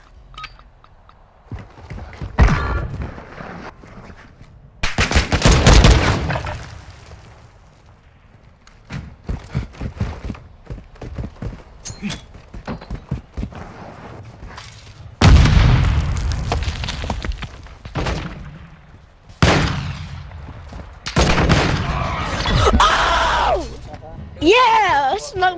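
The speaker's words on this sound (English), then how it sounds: "I shot through the wood, bro." Video game gunfire shooting through wood: loud booming shots and bursts in irregular volleys across the clip, each a sharp blast, with a voice talking between and over them.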